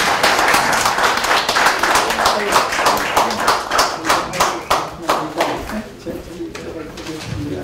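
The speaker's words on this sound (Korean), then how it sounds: "우리 박노자 선생님을 큰 박수로 환영해 주시기 바랍니다" An audience at a political party lecture gives a lecturer a big welcoming round of applause, dense clapping that stays loud for several seconds before thinning out, with some voices underneath.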